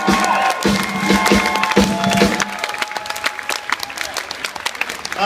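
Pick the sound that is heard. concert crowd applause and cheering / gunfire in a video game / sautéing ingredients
concert crowd applause and cheering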